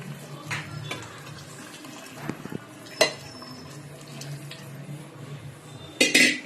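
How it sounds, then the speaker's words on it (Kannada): Hot water poured into a pot of rice mixed with chicken for chicken biryani, with splashing and clinks of a vessel against the pot, a louder clatter near the end. "ಇದಕ್ಕೆ ಬಿಸಿನೀರು ಕಾಯಿಸ್ಕೊಂಡಿರೋ 6 ಲೋಟ ನೀರು ಹಾಕೋಬೇಕು."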